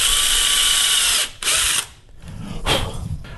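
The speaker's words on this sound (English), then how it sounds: "I then just push it down tight and drill through." Power drill with a spiral bit boring through soft aluminum, a high whining grind that cuts out and restarts in short bursts, close up with no speech.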